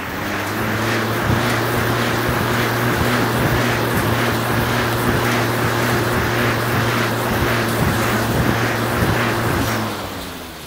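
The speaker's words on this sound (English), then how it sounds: "if you get on the assault bike, you want 10 seconds as hard as you can possibly go" An assault bike's fan whirs hard through a 10-second all-out sprint, a loud, steady rushing drone with a rhythmic pulse that stays constant, then fades slightly at the end.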